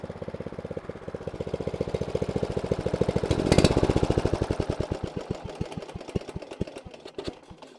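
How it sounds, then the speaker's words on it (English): A DR Power brush mower's engine runs loud and close with a rapid, steady firing chatter that swells briefly and then slows and stumbles toward the end as it is flooded to stop. "I have to like flood the engine so that it'll stop."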